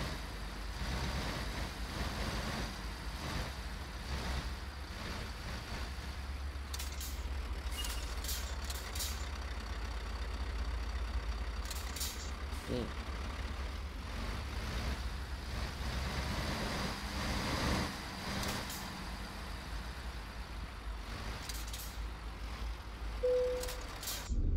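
A truck engine idles steadily with a low, constant rumble, close and continuous, and a brief higher tone near the end.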